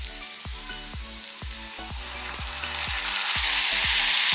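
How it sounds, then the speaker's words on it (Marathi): Curry leaves and green herb paste sizzling and frying in a pan for sago khichdi, with steady crackling, sharp spatter pops, and the hiss growing louder near the end. "या स्टेजला आपल्याला साधारण 7 ते 8 कढीपत्त्याची पाने घालून घ्यायची आहेत आणि व्यवस्थित आपल्याला परतून घ्यायचं आहे."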